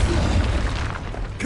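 Confringo fire spell explosion in Hogwarts Legacy on PS5, a dense booming blast filling the short clip with heavy low rumble and crackling burst texture, loud and close.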